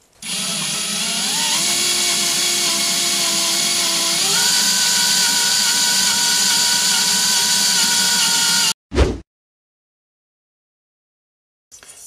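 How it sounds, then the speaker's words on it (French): A hand drill whines steadily for about nine seconds while boring holes for a café racer motorcycle upgrade, its pitch rising midway, then stops abruptly with a short clunk followed by silence. "c'est parti pour le perçage"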